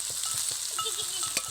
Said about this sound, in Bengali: এইবার এটা সাবধানে একটু নাড়তে হবে